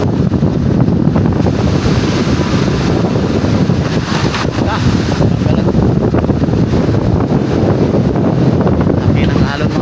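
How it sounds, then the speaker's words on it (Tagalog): Heavy ocean swells and strong wind buffet a small boat at sea, a constant loud roar of water and wind noise rushing across the microphone throughout. "Laki ng alon mga kasangga"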